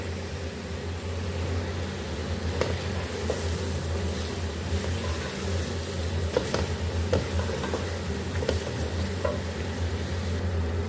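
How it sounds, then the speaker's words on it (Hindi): Goat head (siri) nihari is fried with nihari masala in a pan, producing a steady, dense sizzle with occasional stirring scrapes and taps throughout, no voices. "दो मिनट इसको हमने अच्छे से मसाले के साथ भुनाई कर लेने, इसको भून लेना है।"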